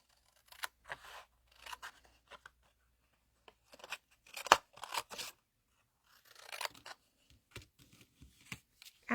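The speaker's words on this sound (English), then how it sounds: "so we're going to fussy cut this out" Sharp scissors snip around a paper card in repeated bursts of short crisp cuts with brief pauses between, close and fairly quiet, with no voices.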